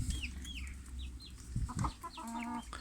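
A rooster and chickens cluck and chirp close by over a steady outdoor hum, with a few short rustling bumps.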